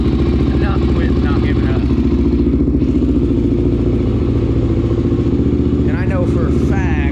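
A Honda 400EX ATV engine whose motor has run on very low oil rumbles steadily and close throughout, with someone talking over it the whole time.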